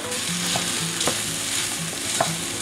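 Sausage frying in a pan for Italian stuffed acorn squash, giving a steady close sizzle with occasional scraping stir strokes and light clinks, no voices.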